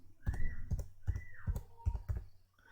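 Keys are tapped to enter an application ID into an online form, giving a handful of distinct soft clicks spaced about every half second, fairly close and quiet.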